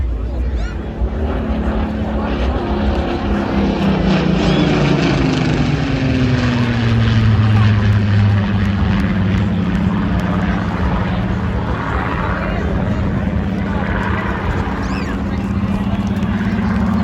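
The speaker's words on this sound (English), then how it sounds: "coming through for the last time at the controls, Ian Smithy Smith and the Rolls-Royce Spitfire" A Rolls-Royce Spitfire makes its last pass at an air show in Ayr, Scotland, its loud piston engine droning steadily with a falling pitch as it goes by. A commentator's voice carries over the engine sound.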